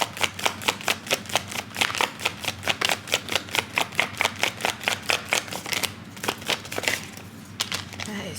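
A deck of tarot cards is riffled and shuffled in a fast, even rhythm of crisp flicking snaps, about two per second, close up, ending in a looser shuffle of cards being drawn.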